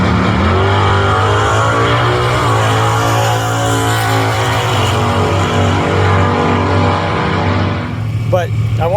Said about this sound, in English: I'm going to put a clip of this thing leaving. It's got a big block, a 400 turbo transmission.